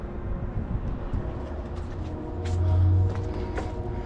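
A train horn sounds at a distance outdoors, a low steady blast swelling for under a second near the end over constant background hum, with no speech.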